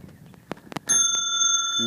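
A bicycle bell rings once, loud and close, its bright metallic tone ringing on and fading slowly after a few quiet knocks of handling beforehand.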